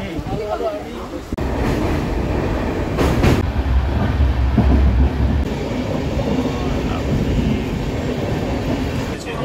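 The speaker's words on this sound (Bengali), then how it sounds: "ট্রেন ছেড়ে দিয়েছে" Inside a moving passenger train, a steady rumble and rattle of the carriage runs throughout, close and loud, with people talking over it.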